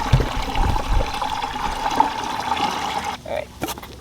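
Water mixed with orange oil poured onto a fire ant mound, a steady close trickle and splash running for several seconds, then quieting near the end.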